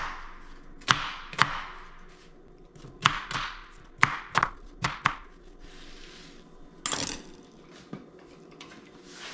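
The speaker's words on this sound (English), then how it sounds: "Now I'll put it aside for now and cut the onion." Kitchen knife chopping onions on a board, irregular sharp close taps scattered in loose bursts with quiet gaps, alone with no talk.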